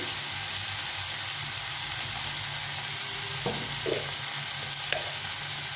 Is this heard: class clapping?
no